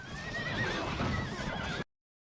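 Cavalry horses in the video game Fourth Age Total War, with a loud, steady din of whinnying and clattering hooves and wavering neighs over a dense battle roar that cuts off abruptly.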